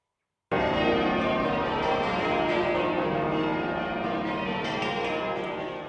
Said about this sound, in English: as bells rang out from one of the world's great cathedrals